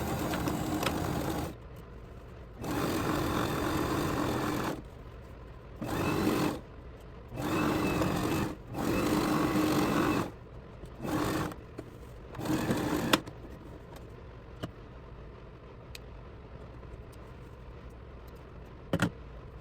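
A sewing machine back-stitches over buttonholes on a fabric bag, running in a series of short whirring bursts that start and stop repeatedly, each lasting one to two seconds, close and steady, with quiet pauses between and no talking.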